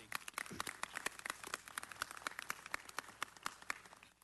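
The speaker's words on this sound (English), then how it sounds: "Let me take a moment to thank all of our religious leaders who deserve a round of applause for all they do for our community." A scattered round of applause at a city council meeting for the religious leaders in attendance, with separate hand claps standing out sharply against a noisy room, moderately loud and steady throughout.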